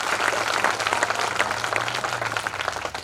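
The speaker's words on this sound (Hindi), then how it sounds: "जरा अपने हाथों की तालियों में जोर बढ़ाइए" A crowd at a Hindi poetry recital (kavi sammelan) claps heartily, a busy, uneven patter of many hands close by, sustained for around three seconds without speech.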